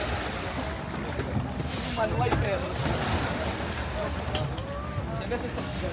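A boat ride on the sea, with a steady wash of waves, water and wind noise running throughout, and some motor-like rumble low in the mix.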